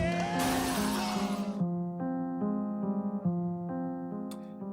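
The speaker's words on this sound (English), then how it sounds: "Gordon throws Mike out the window, smashing to the ground" A window smashes in one loud burst of shattering glass that lasts about a second, followed by a sustained, pulsing tonal musical sting.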